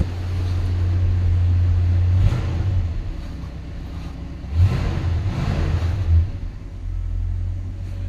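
A 1966 Ford Galaxie 500 convertible's engine idles on fast idle, a steady, loud low rumble with a few brief swells, close by and with no talking.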